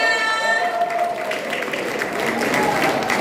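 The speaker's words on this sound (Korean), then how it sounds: "여러분 박수 부탁드립니다" Audience applause at the close of a Korean political campaign rally event, broadband clapping spread through the hall at steady loudness, with voices and some cheering mixed in.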